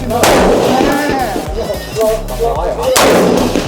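Rifle fitted with a Vortex Strike Eagle 1-8x24 FFP scope fires loud, sharp shots outdoors, with one blast at the start and another near the end, each trailing off in a rolling echo.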